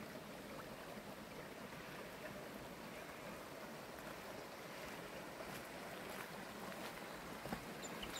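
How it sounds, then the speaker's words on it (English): River rushing steadily near Sherbrooke Falls in the Dandenong Ranges, a faint, even broadband wash of flowing water with no voices. "let's have a listen to that river."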